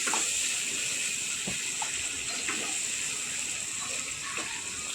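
Water poured steadily into a pan of cooked fish curry masala, a continuous close gushing splash that holds level for several seconds, with no talking over it.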